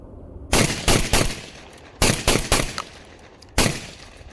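A Beretta A300 shotgun fires in close, loud bursts: a pair of shots, then a quick run of three, then a single blast, each with a sharp crack and brief echoing tail.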